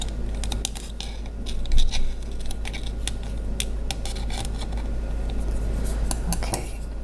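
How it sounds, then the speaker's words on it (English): Kitchen shears trim the edge of pie crust dough for a Dutch apple pie, making a scatter of light, close clicks and snips over a quiet kitchen background. "So I'm going to cut this off right here. I have some kitchen shears here."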